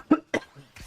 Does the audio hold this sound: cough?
yes